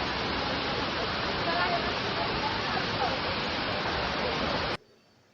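A waterfall with only a light flow of water, roaring as a steady, loud broadband rush that fills the scene, then cutting off abruptly near the end.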